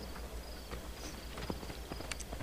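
Horse hooves clip-clop in the video game Assassin's Creed 2, a faint, uneven string of light clicking steps over a soft ambient background.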